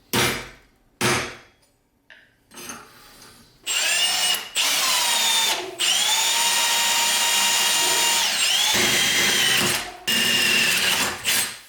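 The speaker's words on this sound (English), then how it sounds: "We'll just drill a hole right here" A power drill whirs in several bursts, starting and stopping, then running steadily with changing pitch as it bores a hole into a motion simulator rig, close and loud.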